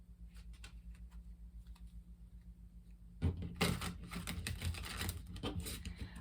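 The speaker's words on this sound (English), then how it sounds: "Let's do some shuffling this way first." Quiet faint rustling, then a louder burst of rapid riffling and flicking as a Gilded Tarot Royale deck is shuffled close by, continuing steadily to the end.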